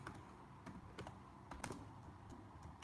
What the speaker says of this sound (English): So let me type in Abraham Accords.